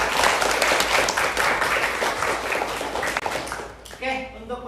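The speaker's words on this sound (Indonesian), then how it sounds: "Oke, beri aplaus untuk Atun." Classroom applause for a student named Atun, a dense wash of clapping filling the room and fading near the end as a voice speaks over the last moment.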